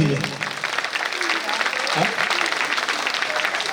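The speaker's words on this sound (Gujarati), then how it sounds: "આપણે પેલી જ તાળીઓ પડવાની છે." Crowd applause fills a temple consecration festival for Shree Harsiddhi Mataji in Sultanpura, a dense, steady patter of many hands with voices talking underneath throughout.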